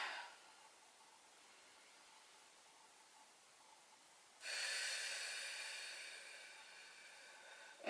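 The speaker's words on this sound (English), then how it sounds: "Take another 3 deep breaths." Deep breathing during a squat mobility exercise: a quiet, steady breath at first, then a louder, airy exhale from about four seconds that slowly fades, with a short sharp intake at the very end.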